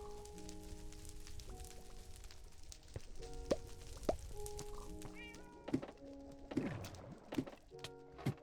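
Cats meow repeatedly in the Minecraft video game, short tonal cries scattered across the stretch, mixed with plopping and thunking game effects; nobody speaks.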